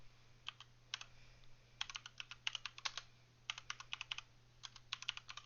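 Soft, quick clicking of fingers typing on a computer keyboard, in irregular bursts of keystrokes with short pauses, faint and close against a low steady hum.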